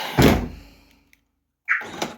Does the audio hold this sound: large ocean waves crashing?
no